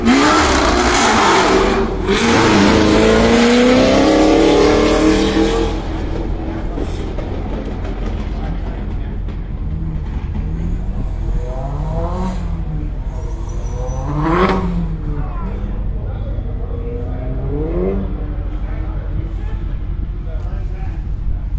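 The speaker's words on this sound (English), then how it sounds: "turn your speakers down for just a second when the Camaro leaves" A Camaro race car accelerates hard away from the starting line, a loud close roar that climbs through several gear changes and fades into the distance, with people talking over it.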